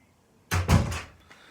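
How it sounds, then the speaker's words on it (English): A door swings shut indoors with one sharp knock, then a quick rattle as it settles and a faint tap after, in a quiet room. "the noise you're going to hear is the door closing"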